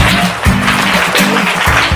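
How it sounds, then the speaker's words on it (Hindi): Loud, dense applause fills a Hindi quiz show studio for a contestant who answered first, with music underneath. "जोरदार तालियां हो जाए श्रेया के लिए"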